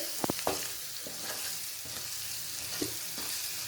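Egg pepper fry being stirred in a hot pan, a continuous bright sizzle with a few quick spatula scrapes near the start and an occasional knock later.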